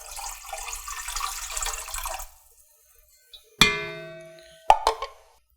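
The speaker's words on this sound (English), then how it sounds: "We are going to put in our water, 2 cups, 110 degrees water." Two cups of 110-degree water poured into a ceramic stand mixer bowl, a soft continuous splashing pour for about two seconds, followed by sharp ringing clinks and taps of utensils against the bowl.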